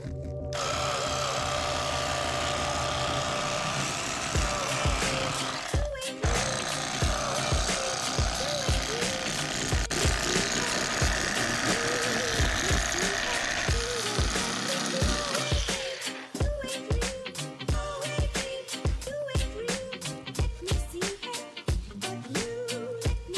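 A KastKing electric fillet knife buzzes steadily as it slices a walleye along the spine toward the tail, its reciprocating blade chattering in rapid pulses that turn choppier near the end.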